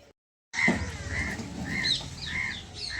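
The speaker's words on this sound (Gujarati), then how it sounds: "જો કાગડા આયા" Several crows caw in a farm field where buffaloes stand, giving repeated harsh calls at a moderate distance after a brief silence.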